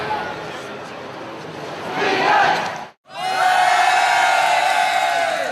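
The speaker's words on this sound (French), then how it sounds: "Ils sont vraiment très sympas parce qu'on leur dit crier et ils crient" A large convention crowd at Japan Expo roars and shouts on cue, two loud sustained bursts of massed voices split by a brief silence, close and dense.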